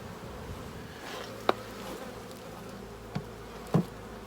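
Honey bees buzz faintly around a backyard beehive, a soft steady hum with a few brief louder taps and knocks, no voices.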